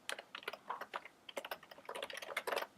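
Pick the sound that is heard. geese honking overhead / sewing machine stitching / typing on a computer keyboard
typing on a computer keyboard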